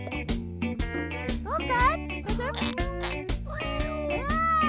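A cartoon black cat meows in a children's animated farm scene, with short rising cries heard among a busy musical backing and voices.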